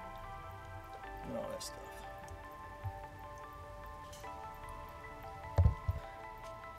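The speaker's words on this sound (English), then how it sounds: "So now it's time to rinse the wheel." Water spray rinses grime off a car wheel during a deep wheel cleaning, producing a soft hissing patter with drips and a few sharp splashes near the end, while a person speaks over it.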